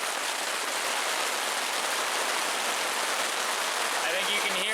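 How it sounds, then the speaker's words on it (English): Heavy rain pounds steadily on a tarp at a wilderness camp, a dense, constant hiss of drops, fairly close, with no pauses. "I know the pounding of the rain on the tarp is pretty significant in my ears"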